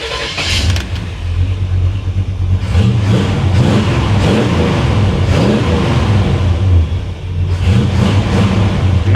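A 1957 Chevy Bel Air engine idles loudly in an enclosed garage, with steady low rumble and several revs rising and falling throughout, running alone without voices.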